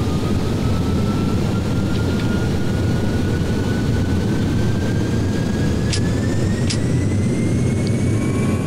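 Airliner jet engines spool up for takeoff in the FSX flight simulator game on a Philippine Airlines flight from Manila, a steady, loud turbine roar with a high whine slowly rising in pitch, heard alone.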